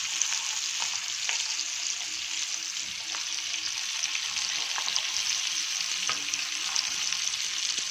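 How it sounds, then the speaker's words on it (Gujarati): Sliced onion frying steadily in a pan for butter paneer masala, a continuous dense bright sizzle with occasional small crackles and spoon clicks throughout. "ત્યારબાદ આપણે આમાં એક નાની ડુંગળી આપણે સ્લાઇસમાં કટિંગ કરી છે, એને આપણે આમાં એડ કરીશું."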